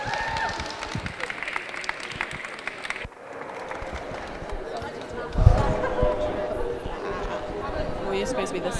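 A room of people claps for the University of Derby Glee Club at a student event, scattered applause mixed with chatter and movement noise, with a brief louder thump partway through.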